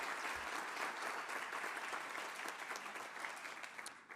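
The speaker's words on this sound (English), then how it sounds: "round of applause to the class of 2021 for fighting for what you believe in" An audience at a class of 2021 graduation speech claps in sustained, dense applause that stays fairly even before tapering slightly at the end.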